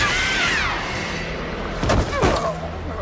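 Gunfire in the TekWar movie, a couple of sharp bursts rising out of a dense, rumbling action soundtrack, fairly loud and close.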